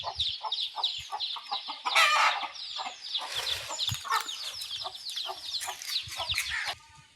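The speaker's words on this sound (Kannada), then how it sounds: "ಗಲಾಟೆ ಮಾಡ್ತಾಯಿದ್ವಿ ಕೋಳಿ ಮರಿಗಳು" Young chickens cluck and peep busily in a continuous overlapping chorus, with scratchy rustling and a brief louder burst of squawking near the middle, fairly close and with no talk.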